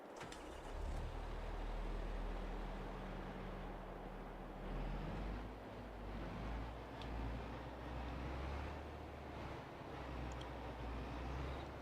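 A large tractor engine from Farming Simulator 22 drones low and steady, overlaid with creaking, clanking machinery and implement rattles, fairly quiet and continuous with no voices.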